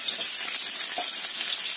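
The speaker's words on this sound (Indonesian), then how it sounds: "Ini kita tumis dulu bawang bombay" Onions sautéing in hot oil give a steady, close sizzle with faint crackles throughout, used as the first step of a fish or crab dish.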